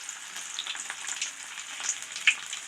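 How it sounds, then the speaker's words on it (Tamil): Four cloves of crushed garlic frying in oil in a pan, producing a quiet, hissy crackle with small pops and a brief sharper spatter near the end. "அதையும் இதில் வறுத்துக்கலாம்."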